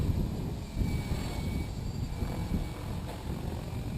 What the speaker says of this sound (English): you're starting to hear turbulent airflow over the blades as they really crank in the pitch